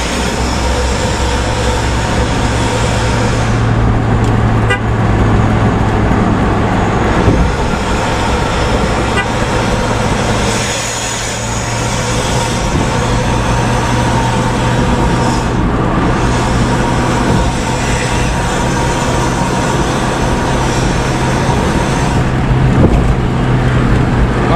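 Road traffic in Indonesia on the Uki–Sadang route, including Bentas and other intercity night buses, produces a continuous loud engine and tyre rumble from a moving vehicle, with horn toots heard along the way.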